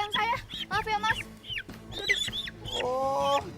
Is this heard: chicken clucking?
yes